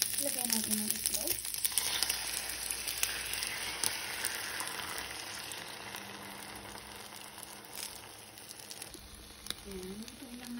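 An egg fries with sausage in a pan, giving a steady crackling sizzle throughout, with someone talking intermittently over it.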